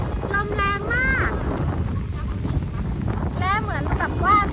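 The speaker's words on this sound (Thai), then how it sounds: "ลมแรงมาก" Strong storm wind gusts at a lakeside campsite, a steady loud rush buffeting the microphone throughout, while people talk over it.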